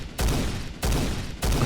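Three heavy .50 AE pistol shots from the video game Phantom Forces ring out at an even, unhurried pace, each loud, sharp blast trailing off in a short decay before the next.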